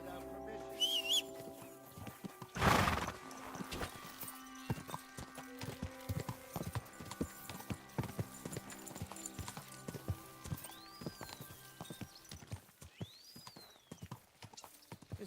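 Steady clip-clop of horse hooves on a hard surface in the video game Kingdom Come: Deliverance II, with a loud whinny near the start and game-like ambient tones underneath.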